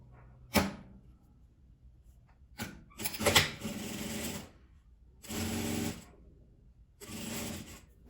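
A sewing machine stitches fabric for a small multipurpose pouch in short runs, a sharp clack followed by several bursts of steady, close mechanical whirring separated by quiet pauses.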